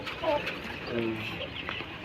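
Chickens on a small integrated farm in Nawalparasi, Nepal, give a few short clucks near the listener while a person speaks over them.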